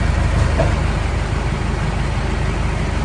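Car engine idling after a start, a steady, close low rumble with an even mechanical throb and no other sounds over it.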